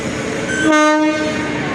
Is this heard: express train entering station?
yes